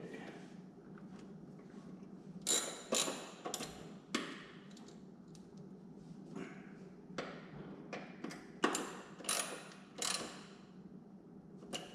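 A T45 bit ratchet clicks while loosening the battery bolt on a Lamborghini Gallardo, giving faint clusters of sharp ratcheting ticks and metallic taps separated by quiet gaps.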